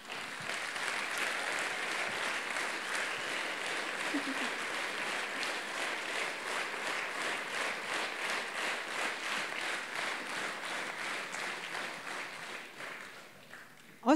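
An audience claps for a gold-award-winning solo folk dancer at a Hungarian jubilee folk dance performance, the applause falling into a steady rhythmic beat for a long stretch before tapering off near the end.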